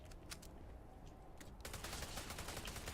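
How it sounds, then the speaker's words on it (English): Gunfire from a shooting range in the game Starfield, a mix of sparse sharp shots followed by denser, rapid bursts that grow louder after a quiet opening, heard with no talk. "it's just this guy at a shooting range"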